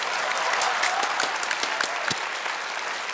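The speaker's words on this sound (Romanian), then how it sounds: "Aplaudați" A studio audience at a comedy show breaks into loud, sustained applause, many hands clapping densely and evenly throughout with no speech over it.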